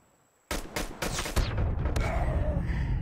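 Rapid pistol gunfire in a one-versus-one video game match, a dense run of sharp close shots starting abruptly after a brief quiet moment and continuing with a steady crackle.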